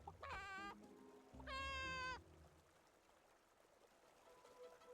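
A giant Barasant creature in the Infinity Nikki video game gives two quick, tonal, bird-like calls close by, then quiet background ambience takes over.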